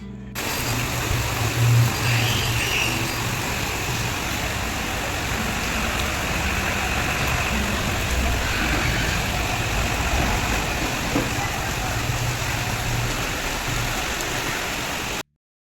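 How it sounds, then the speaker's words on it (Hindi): Heavy monsoon rain pours outside, a dense, loud, unbroken hiss of drops hitting surfaces, with a low rumble underneath that lasts the whole time. "बाहर देखी तो काफ़ी तेज़ बारिश हो रही है, बिल्कुल झमाझम वाली"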